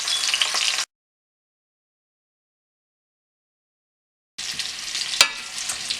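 Potatoes seasoned with turmeric powder and salt sizzle in hot oil, a steady close hiss that cuts out into silence for several seconds, then returns with a sharp clink of stirring.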